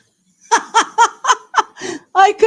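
A pet cat gives a rapid series of about seven short, close, loud meows in quick succession, each bright and chirpy, with brief gaps between them and no talk over them.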